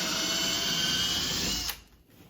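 A power drill bores a pilot hole into a wall for lag bolts while a TV bracket is being mounted, a steady close whine that stops abruptly near the end, leaving quiet.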